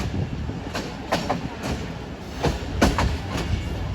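The Ghouri Express passenger train rolls into Chak Jhumra Junction railway station, with close, rhythmic clickety-clack of its wheels over rail joints repeating against a continuous rumble.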